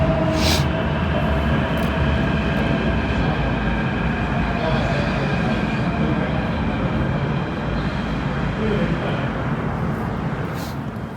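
A metro train, fresh from the depot, rumbles and hisses steadily nearby as it pulls into LOHAS Park Station, its noise easing slightly toward the end; brief high squeals appear early on.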